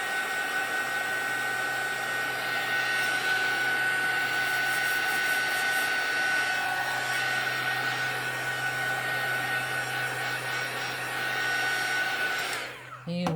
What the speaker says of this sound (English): So I'm going to give it a little blow with the heat tool.